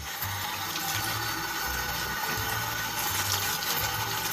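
Tap water runs steadily into a sink while soapy hands are rinsed beneath it, a continuous close splashing hiss with light rhythmic sloshing from hand movements.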